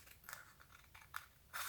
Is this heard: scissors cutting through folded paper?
yes